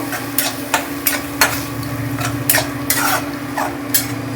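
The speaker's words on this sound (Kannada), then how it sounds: "ಎಲ್ಲ ತಗೊಂಡು ನಾವು ಮಿಕ್ಸ್ ಮಾಡಬೇಕು" A spoon stirs yogurt into tomato rice in a hot pan with steady rhythmic scrapes and clinks about every half second over a constant background sizzle; close, with no talk.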